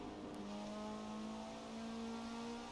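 A Ferrari engine in Forza Horizon 4 revving high, its steady rising whine holding at a sustained pitch, quiet and unbroken with no voices over it.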